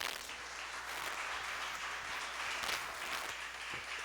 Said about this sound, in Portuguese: Aplauda o Senhor Jesus Cristo bem forte.